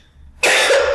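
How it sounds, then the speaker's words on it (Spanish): A single harsh, loud cough erupts abruptly after a brief quiet moment, close and raspy. "ay, me disculpa, estoy con una tos."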